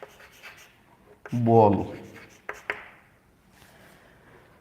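Pen or marker writing math on a board or paper, a scratchy stroke lasting about a second, with a couple of taps and a voice speaking around it.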